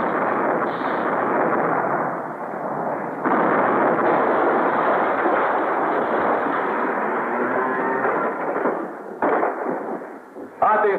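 Cannon fire from pirate ships in a 1952 epic pirate film: a sustained, loud rumbling barrage of booms and roaring blasts, with sharper cracks breaking through toward the end.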